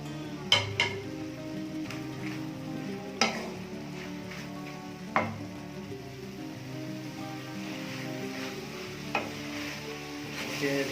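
Tomatoes tossed into a hot pan for a chicken spaghetti sauce, sizzling steadily up close while a spoon stirs and knocks against the pan every couple of seconds, with no voices.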